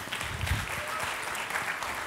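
An audience in a hall at a FameLab Italia regional final in Trieste applauds as a contestant is introduced, a short burst of dense, steady clapping heard from a moderate distance.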